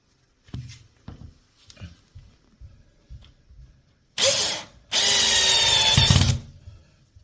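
Electric screwdriver driving screws while mounting pleated blinds, two close bursts of steady whirring, a short one and then a longer one, after a series of soft taps and handling knocks.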